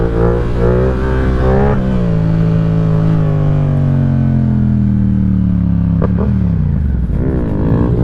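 A Honda Grom motorcycle engine revs loudly and close, pitch rising then holding steady before dropping and climbing again in repeated throttle blips.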